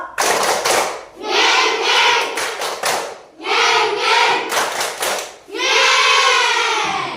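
A primary-school class plays a clapping rhythm game, children chanting loudly together in short bursts punctuated by quick groups of hand claps, with brief pauses between each chanted phrase.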